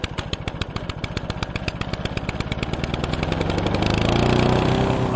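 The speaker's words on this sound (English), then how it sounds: "Out in my lawn I have a nearly 30-year-old lawn tractor." A 1998 Craftsman LT1000 lawn tractor engine runs close by with a fast, steady chugging beat that builds to a louder, smoother drone toward the end, alone with no voices.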